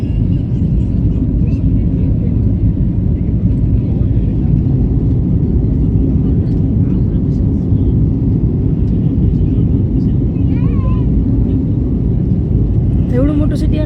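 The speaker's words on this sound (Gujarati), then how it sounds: "ફાઇનલી આપણું પ્લેન લેન્ડ થઈ ગયું છે" Inside an airliner just after landing at Bangalore international airport, a loud, steady low cabin rumble of engines and rolling fills the air throughout, with faint chatter and small clicks on top.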